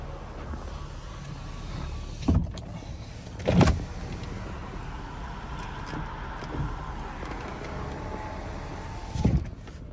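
Power windows on a 2009 BMW 335d whirring up and down in several steady motor runs, with soft thumps as the glass stops, heard close with no talking.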